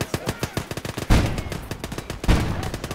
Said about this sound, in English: it's just an MG34